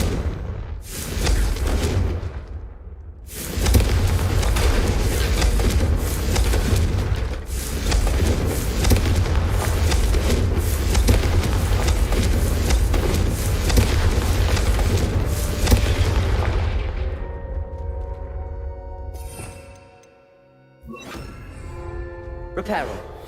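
A Confringo blasting-spell explosion: a long, loud, rumbling roar of booming blasts that goes on for many seconds, then breaks off into quieter crackles and ringing debris.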